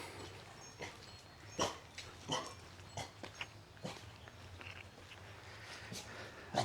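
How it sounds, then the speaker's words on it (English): A dog at a resort gives scattered, faint barks and yips at irregular intervals over quiet background noise. "And yes, there's a dog."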